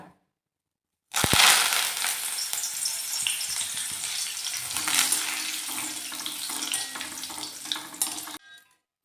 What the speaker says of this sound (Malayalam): കറിവേപ്പിലൊന്ന് വറുത്ത് പോരാ